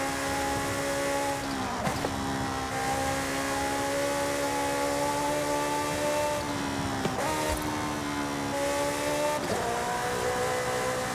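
A Ferrari F8 with its 3.9-litre engine revving high in Forza Horizon 5, a loud sustained wail climbing through the gears with short dips at each shift.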